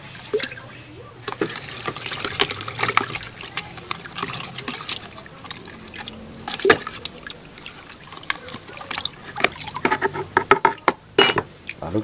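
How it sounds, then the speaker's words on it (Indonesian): Homemade liquid organic fertilizer stirred in a 10-liter bucket, with irregular sloshing, dribbling and scraping splashes close by that grow busier toward the end, no talk. "Lalu kita aduk-aduk sobat tani."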